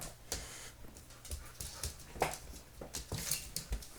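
Dogs shuffle and move about a room, with soft paw patter, panting and scattered bumps at close range, a low quiet mix of restless activity.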